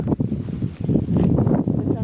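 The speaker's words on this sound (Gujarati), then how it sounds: "ઠંડા પવન વાય છે" Gusty wind buffets the microphone in low, rumbling bursts, loud and close throughout.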